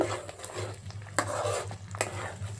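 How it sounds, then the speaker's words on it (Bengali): A spatula stirs pointed gourd mash in a pan with oil, producing steady scraping and clinking strokes with a few sharper knocks against the metal, close and fairly loud, with a faint sizzle underneath. "দিয়ে এবার খুন্তির সাহায্যে খুব ভালো করে নেড়ে চেড়ে এটাকে ভালো করে নাড়তে হবে যতক্ষণ না তেল ছাড়া ছাড়া হয়ে যায়।"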